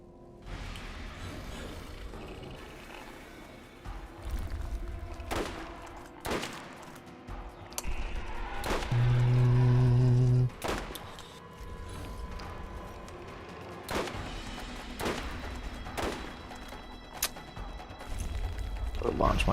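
Video game gunfire rings out in sharp, scattered shots and short bursts over a steady mechanical background hum, with a louder sustained blast near the middle.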